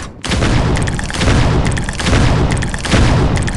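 The Usher sniper weapon fires in Pixel Gun 3D, a continuous loud barrage of booming shots and blasts in rapid surges, dense and close, with no voices.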